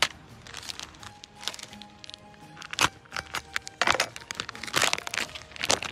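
Raw alligator meat being cut by hand at close range, giving a run of irregular wet crackles, crunches and sharp snaps that cluster into several louder bursts, with no talking.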